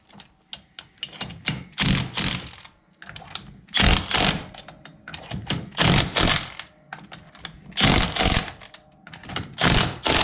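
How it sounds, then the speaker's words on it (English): Impact gun tightening lug nuts on a tractor rim, loud close bursts of rattling hammering, about six separate runs of a second or so with pauses between them. "I'm gonna go ahead and grab my impact gun and tighten these up the rest of the way"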